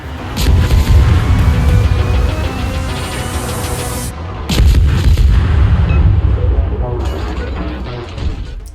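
Repeated booming gun salvos from a German tier 4 destroyer, the IGN V-170, in a naval warship video game, heavy thuds and rumbling blasts with a short pause midway, under a voice talking.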